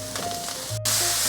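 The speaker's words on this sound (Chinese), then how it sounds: "炒到现在可以看到红萝卜有吸收到油了，现在放入雪白菇。 这些食材先炒一炒" Carrots and white mushrooms stir-frying in hot oil in a pan, a crackling sizzle with a few light scraping stirs, then a louder burst of frying as more ingredients hit the oil.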